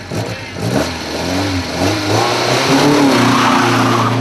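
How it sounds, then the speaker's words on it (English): An Alfa Romeo race car laps a circuit, its engine revving up and down through gear changes in a loud, close, continuous drone with rising and falling pitch. "this would complete 2 laps of the circuit, and here comes Bert Dolk to start his second"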